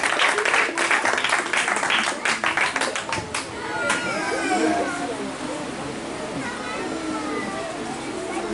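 A church congregation claps along in a steady burst of hand claps during a service, fading after a few seconds into a crowded hall murmur with voices talking throughout.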